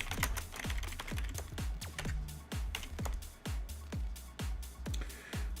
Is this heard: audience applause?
no